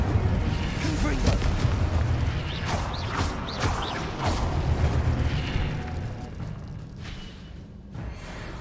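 Confringo blasting spell from the video game Hogwarts Legacy, crackling booms and creaks under a busy game mix that fades toward the end.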